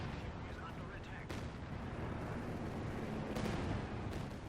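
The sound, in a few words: artillery barrage in video game Company of Heroes 2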